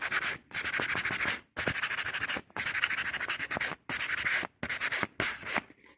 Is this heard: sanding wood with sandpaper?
yes